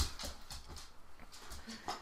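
A dog indoors whimpers and whines in short, repeated bursts, fairly close and low in level, with faint rustling between the cries.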